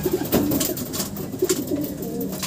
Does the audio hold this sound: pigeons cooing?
yes